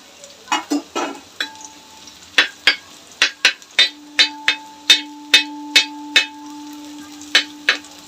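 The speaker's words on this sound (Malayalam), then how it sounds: "ഇച്ചിരി ഓയിൽ ഒഴിച്ച് കൊടുത്തിട്ടേ ഒരു സവാളയൊന്ന് വറുത്തെടുക്കാം" Onions frying in a little oil for biryani, with a spatula striking the pan in a steady series of sharp metallic clanks, some ringing briefly, over a faint background sizzle.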